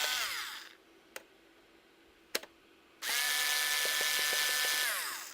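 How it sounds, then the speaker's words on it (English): Screws come out of an Xbox 360 case with a Phillips screwdriver bit, heard as two bursts of motorized whirring, the second longer, separated by a quiet gap with a couple of sharp clicks. "get a Phillips screwdriver, and unscrew."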